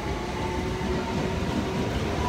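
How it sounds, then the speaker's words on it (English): A train passing close by: a steady, loud rumble with rail clatter that stays even throughout, with no voices. "Okay, that was a train."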